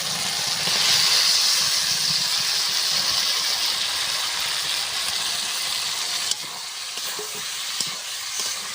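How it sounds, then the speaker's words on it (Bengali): Eggs and eggplant hitting hot spice paste in a pan set off a loud, steady sizzle and hiss that continues for several seconds, then eases slightly, with a couple of sharp clicks near the end. "এবারে ডিম আর বেগুনটা আমি দিয়ে দেব।"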